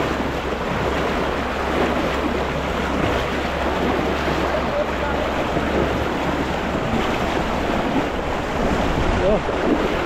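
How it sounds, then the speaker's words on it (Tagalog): A strong river current rushes by in a steady, broadband wash that stays loud and continuous, with wind buffeting the microphone throughout. "Lakas ng agos oh."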